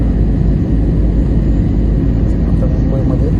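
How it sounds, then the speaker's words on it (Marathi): Steady, loud engine and air roar fills an airliner cabin as the plane descends into Mumbai on a flight from Ahmedabad, a continuous low rumble with no breaks. "विमान उतरण्याच्या तयारीला आहे."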